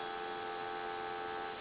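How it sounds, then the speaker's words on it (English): A steady dial tone from a Western Electric 233 three-slot payphone hums without a break, even and continuous, with no voices. "And you'll have dial tone here."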